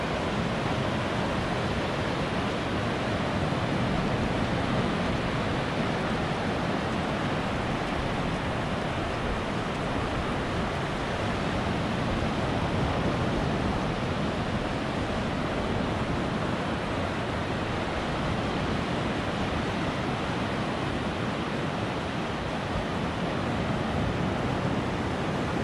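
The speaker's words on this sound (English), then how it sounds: "Let's just take a moment and listen to this ocean." Ocean surf rolls onto the sand at Myrtle Beach, a continuous broad roar of breaking waves with steady wind rush across the microphone, unbroken and fairly loud throughout with no voices.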